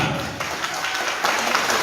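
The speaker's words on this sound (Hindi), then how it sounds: "सभी की तरफ से एक बार सबसे पहले जोरदार तालियां।" Applause at an engagement ceremony in Bodh Gaya for a Bhojpuri singer, with an audience clapping steadily and fairly loudly throughout, mixed with a busy background of crowd noise and a hint of voices.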